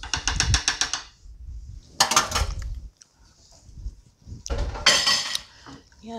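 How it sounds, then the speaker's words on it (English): Milk being whisked into sausage gravy in a saucepan, three loud bursts of rapid metal whisk clattering against the pan separated by near-silent pauses. "And then I'm going to whisk this together."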